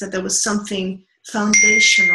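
A mobile phone alert tone sounds as a steady high electronic beep, cutting in under a person speaking and continuing alongside their voice.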